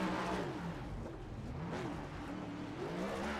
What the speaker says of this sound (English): You'll see guys do some burnouts over here in turn 11